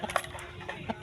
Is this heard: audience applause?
no